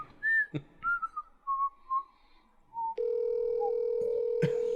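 A phone call rings through before reaching voicemail: a series of short separated tones, then a long steady tone held for about two seconds, clear and close, with no talking.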